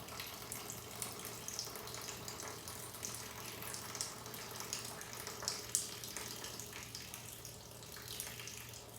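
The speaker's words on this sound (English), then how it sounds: "This would represent a flood. And watch what it has done to the land." Water rushing across a stream table erosion model to simulate a flood, a continuous, gurgling trickle and splash that runs steadily, moderately close, with small bubbling surges.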